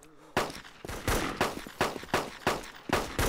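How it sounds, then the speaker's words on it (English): Rapid gunfire from a DayZ shootout, including an Enfield rifle, rings out in a steady series of sharp, loud shots about every half second, with brief echoing tails between bursts. "There's a shoot out here."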